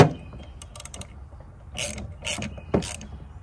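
A socket ratchet tightens nuts over lock washers on a fuel system frame bracket, giving a few short bursts of rapid clicking separated by brief pauses, close and fairly quiet.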